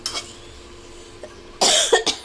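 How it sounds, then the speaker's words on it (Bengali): A sudden cough bursts out in a home kitchen during lunch cooking, a couple of rough, harsh hacks near the end after a quiet stretch. "কাশি উঠে যায়"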